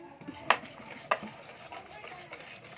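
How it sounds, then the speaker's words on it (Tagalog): Pancake batter stirred in a bowl, quiet scraping with two sharp clinks of the utensil against the bowl, close and faint. "Haluin lang ulit natin siya."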